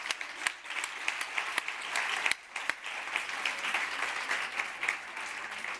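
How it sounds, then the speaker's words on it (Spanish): Audience applause fills a nutrition forum hall, dense steady clapping from a large crowd with a brief dip midway before resuming, moderately loud and without talk over it. "Os pido un aplauso muy grande."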